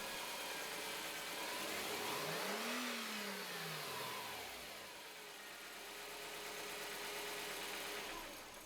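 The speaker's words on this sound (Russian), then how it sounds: "И выполняю прогазовку." A car engine is revved once during a fuel injector control check, its pitch rising and then falling back to a steady idle, close and continuous with no voices.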